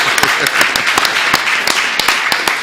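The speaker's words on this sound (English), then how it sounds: "So that was the applause." Audience at a music festival press conference applauds, with many hands clapping loudly and crisply and sharp individual claps standing out across the burst.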